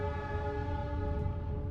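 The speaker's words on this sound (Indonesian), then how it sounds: "Kereta api Kuto Jaya Selatan tambahan yang saya naiki telah tiba di stasiun Kroya" An additional Kutojaya Selatan economy passenger train pulls into Kroya station; a steady, sustained horn tone holds throughout over a low rumble of the rail cars.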